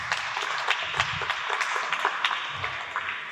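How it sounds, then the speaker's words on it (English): An audience applauds women cancer survivors at a celebration event, a steady, fairly quiet wash of many hands clapping that keeps going without pause. "A big round of applause to all of you."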